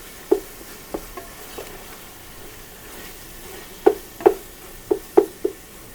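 Ground meat sizzling in a frying pan over low heat while a utensil stirs it, a faint steady fry under a series of sharp scrapes and knocks against the pan, spaced at first and then clustered, with no talk.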